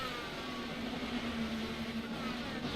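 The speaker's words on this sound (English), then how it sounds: "Hear all the cars shifting gears as they're going through 1 and 2 there." Busy pack of IndyCar race cars in iRacing at World Wide Technology Raceway, a steady blended engine drone with a sustained tone sliding slightly as cars shift gears through turns one and two, moderately loud and continuous.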